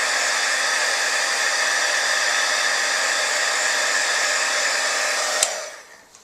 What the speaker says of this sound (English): I'm going to use my embossing heat gun here, and you'll see how this will change dark as the clear embossing powder melts.